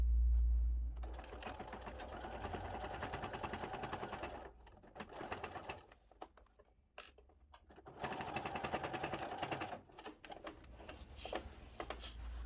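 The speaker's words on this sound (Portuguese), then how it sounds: "Venho aqui pra máquina. E vou costurar." A sewing machine stitches bias binding around the edges of a pouch, a close, steady mechanical whir running almost throughout and easing down briefly in the middle before picking up again.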